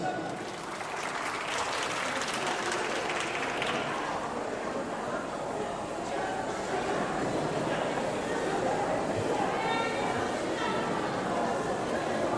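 At an outdoor free samgyetang meal for about 300 seniors at a Hanam elementary school, the crowd claps for the social welfare council chairman, a long, moderate, steady applause mixed with chatter and voices throughout.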